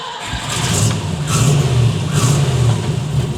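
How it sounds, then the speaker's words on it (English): A TVR sports car fitted with a $100 tractor turbo on its first test drive: a loud, close engine drone that holds steady with slight swells of revving throughout, with no talking. "TVR out for its very first test drive"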